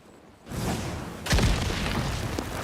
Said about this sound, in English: What the hell is this grenade made of?